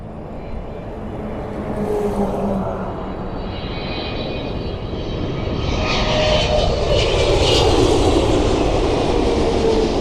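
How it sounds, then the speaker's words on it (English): Korean Air Boeing 777 airliner at Toronto airport, its engines roaring steadily and building louder as it passes close by, with a broad rushing jet noise throughout. "There she is. Korean Air 777."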